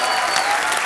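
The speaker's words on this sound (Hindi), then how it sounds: "जोरदार तालियां।" A television comedy show's studio audience applauds steadily, a dense wash of clapping that holds at a constant level throughout, fairly loud and close.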